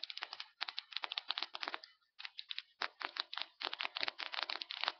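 Spinning barrel of a toy Gatling gun on a Zorro mecha Diablo figure, rapid dense ratcheting clicks in quick bursts with short pauses between, close and fairly quiet.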